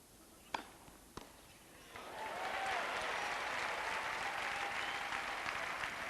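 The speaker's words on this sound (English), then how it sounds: "the crowd beginning to be heard now and making themselves known" A tennis crowd at a men's singles match breaks into sustained applause after a couple of sharp ball hits, the clapping swelling and holding steady at a moderate distance.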